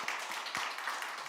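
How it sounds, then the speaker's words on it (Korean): A church congregation gives a burst of applause during a Korean Wednesday worship service, a brief dense wash of many hands clapping at moderate distance. "이 아침에 우리를 기뻐하시는 주님 앞에 한번 큰 박수로 영광 올려드리며 나아갑니다"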